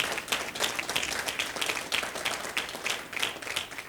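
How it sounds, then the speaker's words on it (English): Applause from a leadership institute audience for an honored guest, a continuous wash of clapping heard from some distance and fairly faint, without voices. "Please give a round of applause to Mr. Sam Petroda."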